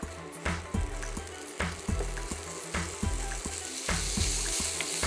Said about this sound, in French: C'est parti pour les cuissons. On commence par les lardons.